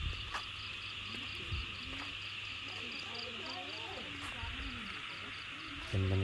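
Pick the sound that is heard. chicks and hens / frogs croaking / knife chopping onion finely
frogs croaking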